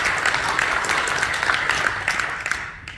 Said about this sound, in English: Good time to clap.